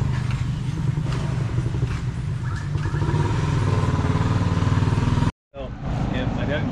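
Motorcycles idle and rumble steadily close by, a continuous throaty engine drone that runs for several seconds before cutting off briefly and returning, with people talking nearby.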